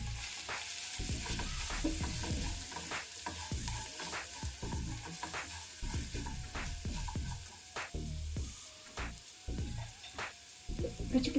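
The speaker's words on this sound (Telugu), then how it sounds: "2 టేబుల్ స్పూన్ల పావు బాజీ మసాలా, 1 స్పూన్ కారం వేసుకోవాలి. ఇదంతా ఒకసారి కలిపేసుకొని" A spoon stirs pav bhaji masala and chili powder in a sizzling pan, scraping in repeated strokes about once a second over a soft, steady fry, close and fairly quiet.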